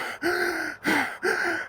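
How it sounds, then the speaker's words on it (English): Someone walking outdoors along Wascana Creek in Regina breathes heavily, with three loud, close, rhythmic breaths and brief gaps between them, and no talk. "you can already hear me breathing"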